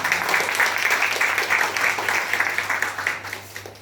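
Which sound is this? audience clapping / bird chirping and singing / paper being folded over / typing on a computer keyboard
audience clapping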